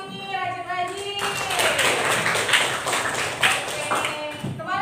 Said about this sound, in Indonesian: Tepuk tangan untuk kelas ini, rajin-rajin.